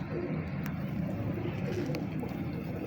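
Pigeon cooing from a sturdy bred pigeon among paired birds kept by a breeder, a steady low throaty murmur that carries on throughout against faint background noise.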